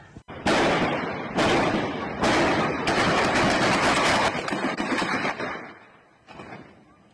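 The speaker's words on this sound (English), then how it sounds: "we've got infantry just shooting on civilians" Bursts of infantry gunfire in a war zone, several loud, close volleys of rapid shots sustained over several seconds before tapering off, with no talk.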